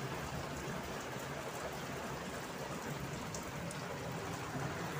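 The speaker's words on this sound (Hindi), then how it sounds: "अरे भाई साहब, कितनी ज्यादा बारिश हो रही है।" Heavy rain pours down in a steady, dense hiss with no let-up, soft and even throughout and free of voices.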